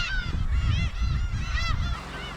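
Black-tailed gulls on Dokdo island call repeatedly in loud, nasal, mewing cries that overlap in a busy colony chorus, close by over a low rumbling background of wind and surf.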